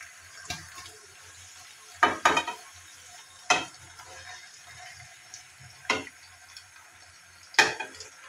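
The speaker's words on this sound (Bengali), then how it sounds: "তো এখন আমি সিদ্ধ করে রাখা জলপাইগুলো দিয়ে দিব।" Boiled olives tip into a pan of garlic fried with spices for olive pickle, giving a few sharp clattering hits and short sizzling bursts spaced over several seconds, with quiet stirring and faint crackle between them.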